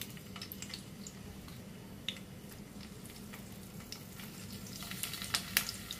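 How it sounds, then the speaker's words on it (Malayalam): Stuffed bitter gourds shallow-frying in hot oil, a quiet, constant hiss and crackle with small pops and spatters growing a little livelier toward the end, heard alone. "എണ്ണ ചൂടായി. നമുക്ക് കയ്പക്ക ഓരോന്നായിട്ട് ഇതിലേക്ക് ഇട്ട് കൊടുക്കാം."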